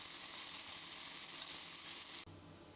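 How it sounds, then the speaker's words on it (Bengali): A large fish head fries in hot oil, a dense, steady sizzle that holds strong before dropping sharply near the end to a quieter hiss. "এই যে মাথাটাকে ভালো করে উল্টিয়ে পাল্টিয়ে ভেজে নিচ্ছি, বড় মাথাটাকে।"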